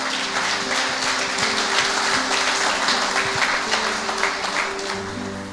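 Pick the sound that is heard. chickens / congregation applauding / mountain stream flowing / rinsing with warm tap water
congregation applauding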